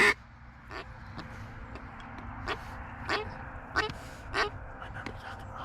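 Ducks calling on the water during a Wisconsin duck hunt: a series of scattered quacks and honking calls, some near and some farther off, spaced irregularly over a steady outdoor background.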